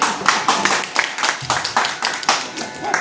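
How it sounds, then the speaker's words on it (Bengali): Audience clapping at a client appreciation party, a close, steady run of sharp hand claps with an uneven rhythm, loud and continuous throughout. "এই হাততালি"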